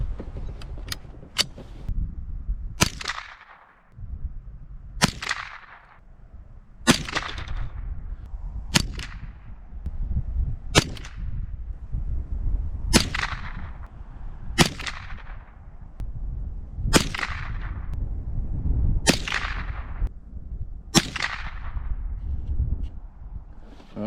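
A SIG 522 rifle fires .22LR rounds, about ten sharp, loud cracks spaced a couple of seconds apart, each followed by a short ringing tail over a low background rumble.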